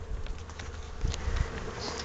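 Honeybees buzz around a hive entrance, a dense, close swarm drone with faint patter and soft knocks, no voices.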